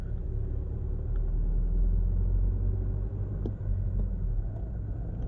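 A BMW 318d diesel car pulls away smoothly, heard from inside as a steady low engine rumble and road drone, fairly loud and continuous with no talk.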